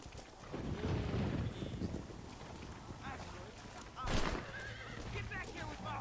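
A horse in the video game Red Dead Redemption gives a loud whinny amid hoof clip-clops and wind, with someone talking over parts of it.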